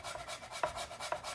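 Fresh ginger grated over garlic, quick repeated rasping strokes in a steady rhythm, close and fairly soft, no talk.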